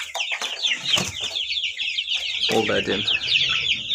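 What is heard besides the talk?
chickens and chicks, Australorp and Kuchinsky breeds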